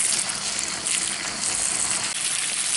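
Water poured into a pan of cooking kidney beans with garlic and Cajun spices, a steady bright hissing gush mixed with sizzling, loud and continuous from start to finish.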